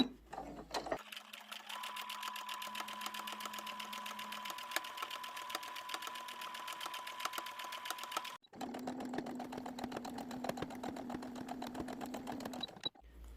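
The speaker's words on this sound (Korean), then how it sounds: "박음질 하겠습니다" A sewing machine stitches bucket hat fabric pieces together in two long runs of fast, even, close whirring, with a short pause between them and no talking.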